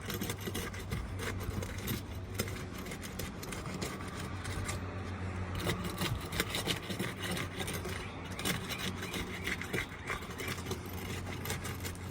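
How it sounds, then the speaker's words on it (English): A flat bar prying under asphalt roof shingles to break the tar strips, repeated scraping and rasping over a steady low hum, moderately faint with no talking. "the first thing we're going to do using the flat bar is to break the tar strips on the shingle that we'll be pulling"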